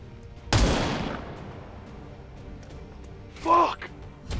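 A single loud, close gunshot fired by a soldier in XCOM 2 cracks out with a long decaying tail, followed a few seconds later by a shorter second burst of sound, and someone talks around it.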